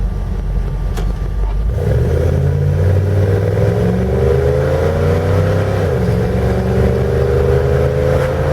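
A 1977 Dodge Ramcharger SE 4WD with a 440 V8 accelerates in first gear, its loud, deep engine note climbing steadily and then shifting under constant cabin rumble.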